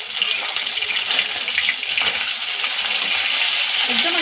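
Fresh Bombay duck (bombil) fillets, three at a time, frying on low gas in a pan give a steady, dense sizzle that holds close and even with no pauses.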